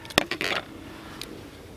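Peppers and onions are tipped into a frying pan of sausage on a Firebox Ultra bushcraft cook kit, giving a few sharp metallic clinks and clatters close up, followed by a quiet hiss.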